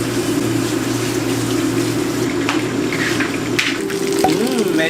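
Running water splashes steadily over the sound of a machine hum, with a few clinks and light rattles like dishes being handled near the end.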